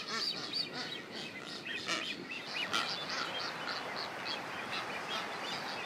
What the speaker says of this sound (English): we wished we could understand what their squawks and whistles meant, as they all seemed quite talkative.